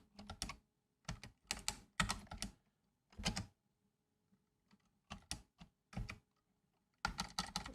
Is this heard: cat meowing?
no